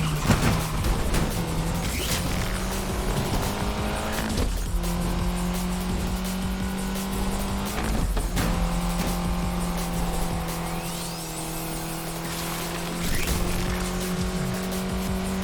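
A Lotus Exige S in Need for Speed Unbound races hard, its engine howling near and loud through repeated gear changes with rising and falling revs, and tires squealing through corners, with no voices.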